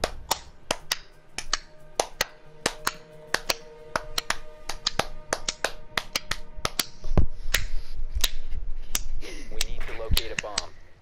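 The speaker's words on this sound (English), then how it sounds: "I'm slapping the back of my hand. I'm clapping." Loud hand slaps as the back of one hand is struck to clap, a long series of sharp, irregularly spaced cracks, some in quick pairs, over faint background noise during a game.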